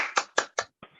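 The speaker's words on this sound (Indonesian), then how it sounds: "Tepuk tangan dulu." Children in a Sunday school class clap their hands in a short burst, about four sharp claps and then a softer one, close and clear with no talking.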